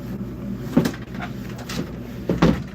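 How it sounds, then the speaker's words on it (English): An indoor door is shut, with two dull thumps about a second and a half apart over a steady low hum from a furnace running nearby. "Let me shut this door here."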